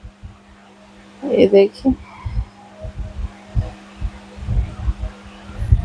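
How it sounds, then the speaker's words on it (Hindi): A sewing machine stitches the side seam of a pair of pants with soft, low, rhythmic thumping pulses. Someone speaks briefly before the stitching starts. "अब मैं मशीन पे बैठ गई हूँ, मैं पैंट की साइड की सिलाई लगा रही हूँ।"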